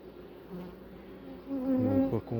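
A honeybee buzzes close by near a small beehive, its drone rising and wavering in pitch and growing louder toward the end, with no voices.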